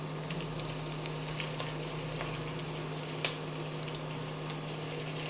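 Beef pieces frying in a pan for a traditional veal tasqebap stew, a steady low sizzle running throughout with a faint hum and one small sharp tick near the end.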